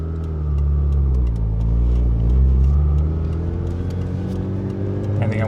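A Mazda RX-8 rotary engine running a Haltech R3 tune revs and rises with turbo spool, a loud, close, rumbling drone that swells in the middle and then settles to a steady hum.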